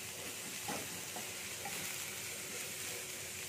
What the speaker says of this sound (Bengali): দিয়ে এগুলোকে আমি হালকা ভেজে নেব